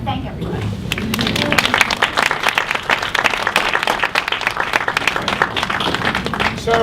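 An audience at a STEM lecture on modeling neurological diseases applauds, dense sustained clapping throughout, loud and close.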